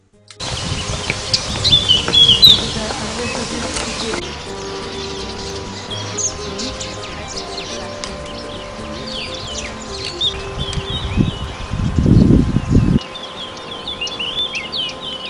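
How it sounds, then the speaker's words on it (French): Birds chirp and tweet repeatedly in a shaded green valley, moderately close, over a steady background hum with a louder low rumble near the end. "ce que veulent sans doute nous faire remarquer les oiseaux réfugiés dans la fraîcheur de l'ombre"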